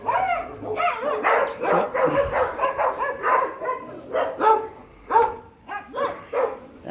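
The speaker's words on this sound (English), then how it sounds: "I also hope that dog will stop barking." A dog barks persistently at an animal feeding, a run of quick close barks and yips in uneven rhythm, with a brief spoken word at the start.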